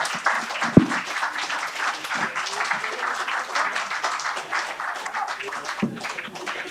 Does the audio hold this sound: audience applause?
yes